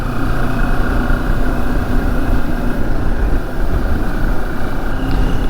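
A 2022 Moto Morini X-Cape 649 parallel-twin motorcycle engine drones steadily while riding, a loud, continuous low rumble with wind and road noise all around.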